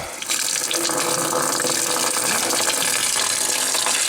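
Water rushes steadily out of open plumbing valves as the system is drained for winter. The gush starts abruptly and then holds as a loud, continuous hiss.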